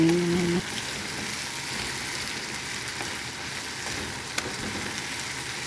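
Boneless chicken fries in a pan, giving a steady hiss and crackle that holds evenly throughout at moderate loudness.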